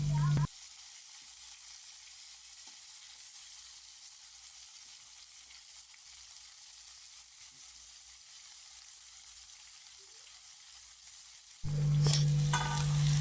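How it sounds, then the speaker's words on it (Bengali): Steady hissing sizzle of vegetables frying in oil while being stirred, carrying on for several seconds, with a low hum briefly heard at the start and end. "আস্তে আস্তে করে নেড়ে নেড়ে ভাজা করছি"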